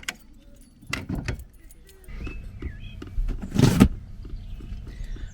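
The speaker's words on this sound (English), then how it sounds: "I put this chain around the wheel and then lock it to the bike" A metal bike lock chain wrapped around a bicycle wheel and locked beside a VW T5 campervan in a forest, clinking and jangling in short metallic bursts with a louder rattle near the end, fairly close.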